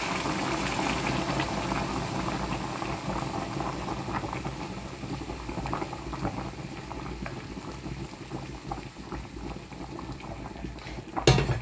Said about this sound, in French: je recouvre d'eau. C'est de l'eau bouillante hein,